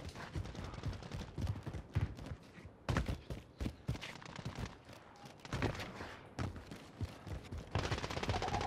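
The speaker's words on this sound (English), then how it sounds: "I hear shots." Gunshots in Warzone 2.0, a video game, ring out as repeated sharp cracks and short bursts. Some are close and others more distant, with steady game ambience behind them and no talk.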